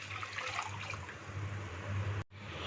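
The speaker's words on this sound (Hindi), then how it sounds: "मैक्रोनी बॉईल करने के लिए 1 लीटर पानी ये शामिल कर देंगे।" About a litre of water pours into a pan for boiling macaroni, a continuous close splashing trickle with a steady low rumble, briefly interrupted before resuming.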